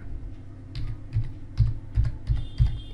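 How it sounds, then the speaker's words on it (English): Password typed on a computer keyboard: six or seven separate clicky keystrokes in an uneven rhythm over a low room hum, fairly close and moderately loud, with no voices. "So let me type a password."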